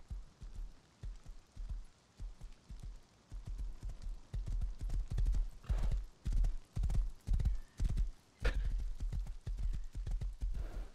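Horse hooves clip-clop in the video game Rust, a steady near run of rhythmic thuds that grows louder midway, with a brief whinny, no voices over it.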